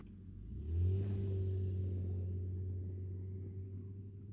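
A 2023 Honda Ridgeline pickup in normal mode pulls away from a stop in first gear on snow, its engine rising into a steady low drone that holds for several seconds, fairly close and moderately loud.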